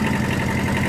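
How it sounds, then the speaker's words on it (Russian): A Kubota KJ11 Japanese mini tractor engine running at a steady idle, a continuous low mechanical drone with an even pulsing throb, close and fairly loud with no talk. "Сам запуск трактора."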